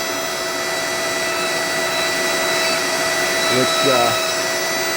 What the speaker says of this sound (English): the dremel makes bigger,